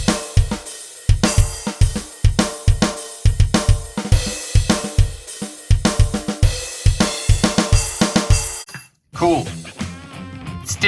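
Steady programmed GarageBand drum pattern with crash cymbals, kicks and snares in a driving rhythm under bright cymbal splashes, looping for about nine seconds before a brief gap and a short trailing fragment.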